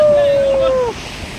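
A vehicle fords a stream with a steady rush of splashing water, close and fairly loud over about a second, then thins to a softer wash. A single whistle-like tone runs above it before fading.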